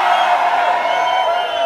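A loud concert crowd screams and cheers on cue in one sustained roar, dense and enveloping at close range, with shouting voices blended in.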